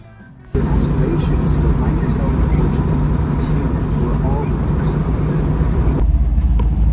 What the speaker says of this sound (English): just running the bus, put some miles on it before I head out of town on Friday